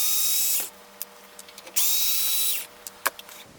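A power screwdriver with a PZ1 bit backs screws out of a 1992 Racal Dana frequency counter, two whirring bursts each ending in a drop, separated by small clicks and taps of handling, close up with no talking.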